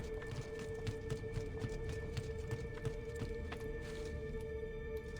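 Steady clip-clop of horse hooves walking at a relaxed pace at the fortress of Rocca di Ravaldino in Forlì in the video game Assassin's Creed II, with a constant droning hum and background ambience underneath.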